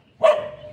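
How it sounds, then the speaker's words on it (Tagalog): A single sharp bark from an angry dog, loud and close, with a short trailing tail. "Galit na yun si aso."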